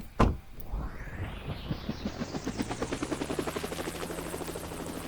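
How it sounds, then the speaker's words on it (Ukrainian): A helicopter in the Roblox game spins up after a sharp opening thump, its rotor chop settling into a steady rhythmic whir that stays loud and close. "Зараз я підб'ю твій вертольот"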